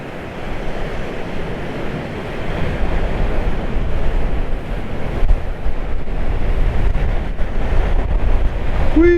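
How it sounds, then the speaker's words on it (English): Big sea waves crash and surge continuously along the Paphos seafront after a November storm, a loud, broad wash of surf with gusting wind buffeting the microphone throughout. "Nice big waves, please."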